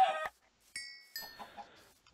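Chickens in the video game Minecraft give a few short clucks and a bright chiming tone in quick sequence, close and fairly quiet with gaps of silence between, no talking.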